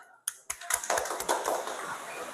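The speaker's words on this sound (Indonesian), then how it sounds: "berikan tepuk tangan untuk kelompok 2 semuanya." Applause for a student group in a classroom, starting after a brief pause with a few sharp claps, then building into a steady patter of many hands close by.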